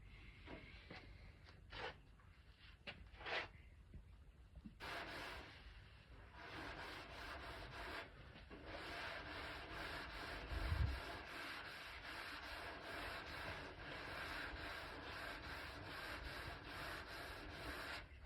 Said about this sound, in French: Donc ça sèche et on remet un petit coup de cale.